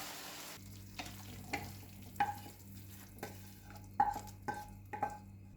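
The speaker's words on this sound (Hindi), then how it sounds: "हमारा तड़का रेडी है। चलिए इसको हम डालमा में डाल देते हैं।" Hot jaggery tadka is poured into dalma and stirred, giving a faint steady sizzle with soft rhythmic spoon knocks against the pot, close and without talk.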